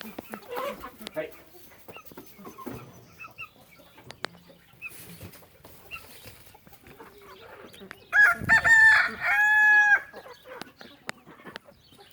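Roosters crow and chickens cluck in a backyard flock that has two newly added roosters. Soft clucking and scratching run throughout, a loud, close crow rises near the end, and voices are faintly present.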